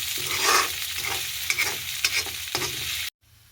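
Ingredients sizzle and crackle in a hot pan with a few scraping stirs, steady and close, before cutting off abruptly near the end.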